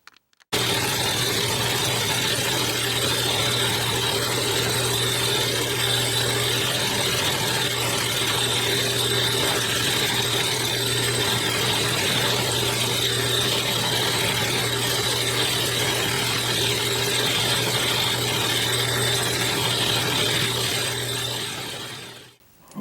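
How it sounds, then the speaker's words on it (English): A lathe turning down a sprocket for a Peerless differential on a go-kart build runs steadily and loudly for the whole stretch, with a constant motor hum and a busy mechanical whir of cutting, then stops abruptly at the end. "let's finish it up on the lathe"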